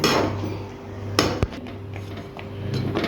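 A spoon clinks against a pan as fenugreek halwa made with jaggery and sesame oil is stirred. Two sharp metallic knocks stand out over a steady low kitchen hum.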